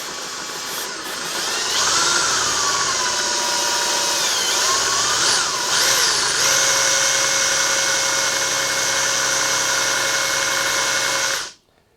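A power drill spins the worn, badly damaged wheel bearing of a 1962 KTM Ponny scooter, a loud steady whine with a shifting pitch early on, running continuously for about eleven seconds before cutting off abruptly.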